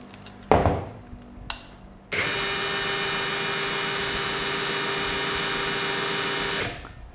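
A red DCK KDPL03-14 cordless brushless drill spins up at low speed after a couple of knocks, then runs with a steady, even whir for about four and a half seconds before stopping, close to the microphone with no talking.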